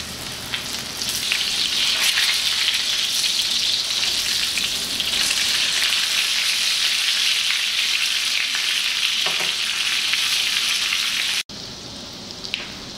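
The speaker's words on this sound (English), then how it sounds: "Now you wanna leave them cooking for about 3 minutes on each side." Chicken frying in a pan, a loud, steady sizzle close up that continues without pause until a brief cut, then carries on more faintly.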